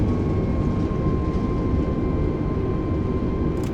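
Airbus airliner in Microsoft Flight Simulator roaring under full reverse thrust just after touchdown, a steady loud broadband engine rumble with a faint tonal whine held throughout.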